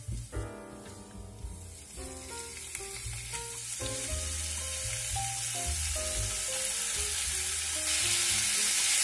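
Lamb slices stir-fried with garlic in a little oil, a loud sizzle that swells steadily and hisses strongly near the end, heard under tonal background music with no talking.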